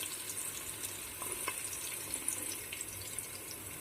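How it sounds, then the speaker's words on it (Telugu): Two medium-sized chopped onions frying in six tablespoons of hot oil for mutton mandi, a steady faint hiss with scattered small crackles, quiet and continuous with no talking. "ఆయిల్ హీట్ అయ్యాక 2 మీడియం సైజ్ ఆనియన్స్ కట్ చేసుకొని వేసుకోవాలి"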